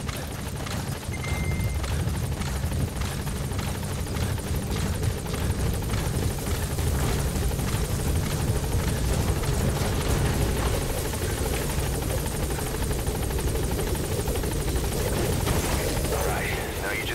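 Support helicopter in Metal Gear Solid V: The Phantom Pain, a loud continuous rotor thrum and engine roar hovering close for the whole stretch, with faint game voice and effects layered over it.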